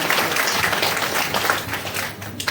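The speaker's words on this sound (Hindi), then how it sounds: "जोड़ा तालियों से स्वागत करिए भाई" Audience applause at a retirement farewell ceremony, steady dense clapping that carries through the whole stretch at even strength and thins slightly near the end.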